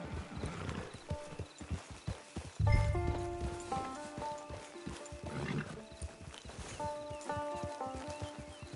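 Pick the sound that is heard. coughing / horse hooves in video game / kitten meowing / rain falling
horse hooves in video game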